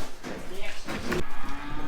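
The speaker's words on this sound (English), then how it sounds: "The cows are letting me know that we are late for feeding time." Several cattle moo loudly and repeatedly on a farm at feeding time, overlapping calls filling the whole moment near the listener.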